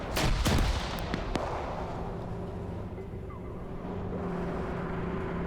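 An AGS grenade launcher barrage in a combat video game: several heavy booming blasts in quick succession at the start, then a rumbling background of distant battle and engine noise.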